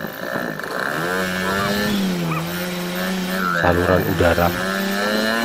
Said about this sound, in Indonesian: Jadi kita semprot sambil digas-gaskan ya.